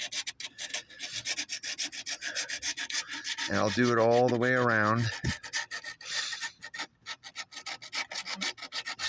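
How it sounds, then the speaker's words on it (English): Coarse sandpaper rubbed against a plastic cold air intake, a rapid rasping scrape that runs continuously while someone talks over it, with a brief pause in the middle. "So take my finer coarse sandpaper and just give it a little"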